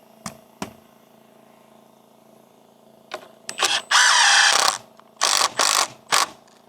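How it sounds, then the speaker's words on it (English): A cordless drill with a dying battery at an off-grid camp in the Atchafalaya Basin, a few short clicks then several loud whirring bursts of uneven length, close and stopping and starting, with no talk. "I know my drill's starting to die,"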